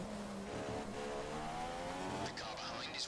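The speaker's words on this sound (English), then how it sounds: "The car behind is running on full revs." Formula 1 car engine at full revs in the F1 2015 racing game, Spanish Grand Prix, a high, whining engine tone with rising harmonics, heard under someone talking.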